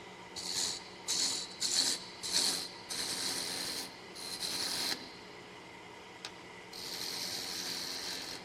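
Spindle gouge with a standard grind cutting a wood finial on a lathe: several short scraping bursts, then longer steady cuts with a brief pause, close and fairly loud, with no talking.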